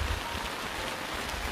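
Rain falling during a corn harvest in Davao Oriental, a dense steady hiss of drops close by with no pauses.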